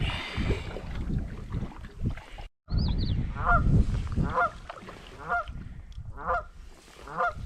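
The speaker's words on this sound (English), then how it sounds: "I surprised the Canada Goose." A Canada goose honks repeatedly from nearby on a river, heard from a canoe in snowy, windy weather, with the noise of paddling and water underneath.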